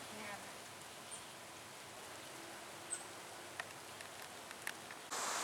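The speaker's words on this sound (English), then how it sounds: "Rain in the summertime out here in suburban Long Island." Summer rain falls in suburban Long Island as a soft, even hiss, with a few faint drips and taps standing out from the steady wash.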